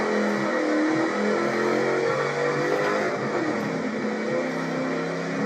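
Engine of a P71 Crown Victoria in Forza Motorsport 7 at Suzuka in the rain, revving steadily and loud through a gear change as the rear slides out around a corner, continuous with no talk.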